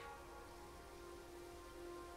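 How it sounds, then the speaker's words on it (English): Steady rain falls in the Mars Horizon video game, a continuous soft hiss of drops at a constant moderate level with no voices over it. "Oh, it's raining."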